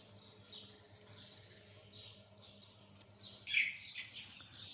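Chickens on a poultry farm chirp and cheep repeatedly in soft, overlapping calls at moderate distance, with a faint steady hum underneath and a louder burst of chirping near the end.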